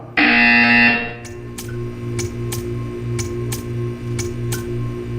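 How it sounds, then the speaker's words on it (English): A test-chamber buzzer in the video game Portal 2 sounds as one loud, sustained electronic tone for about a second, then a steady run of sharp, evenly spaced ticks continues over a low hum. "You will hear a buzzer."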